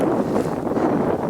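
Cold fall wind buffets the microphone in low, rumbling gusts on a fishing outing, loud and continuous with no voices.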